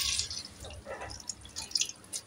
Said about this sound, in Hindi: ये जो मैंने पानी तैयार किया है इसमें थोड़ा सा केवड़ा वाटर डाला है, इसको हम इसमें डाल देंगे